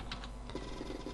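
Keys tapped on a computer keyboard numpad during a DROD RPG game session, a few quick light clicks close up, soft and isolated against faint background hiss.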